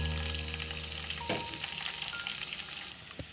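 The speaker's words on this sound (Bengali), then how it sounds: "এবার গরম তেলটা আমরা এর সাথে অ্যাড করে দিলাম।" Hot mustard oil poured into a mango kasundi pickle mix gives a steady close sizzle and crackle, with a brief louder burst midway and a small clatter near the end.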